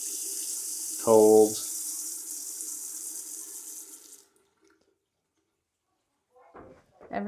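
Water runs steadily from a bathroom sink faucet with a reclaimed-material vanity, a hiss that lasts about four seconds before stopping; a voice speaks briefly near the start, and a bit more talk follows at the end.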